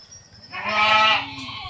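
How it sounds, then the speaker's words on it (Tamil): Goats bleat near a farm shed, one loud drawn-out harmonic call rising in the middle over a low steady rumble, with fainter bleats from the herd around it. "வேறு பட்டி ஆடு கொட்டாக்குள்ளே வர பார்க்குது"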